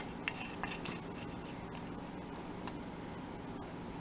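A small spatula scrapes and clinks against a dish while mixing a thick breastmilk jewelry paste, producing quiet irregular ticks and taps over a soft steady background.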